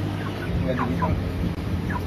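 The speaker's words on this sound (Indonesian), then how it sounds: "Bisa didengar dari suaranya, ayam semua bernyanyi." Laying chickens in a battery-type closed-house coop, many hens clucking and calling at once in a dense, continuous chorus over a steady mechanical hum.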